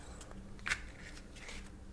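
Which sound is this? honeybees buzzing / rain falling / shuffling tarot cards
shuffling tarot cards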